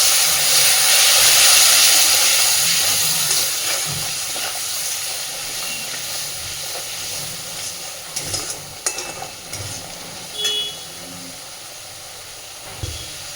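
Water hits hot spices frying in oil in a pan for an egg curry with cauliflower and potato, giving a loud burst of hissing sizzle that slowly settles into a softer steady fry with occasional light clinks.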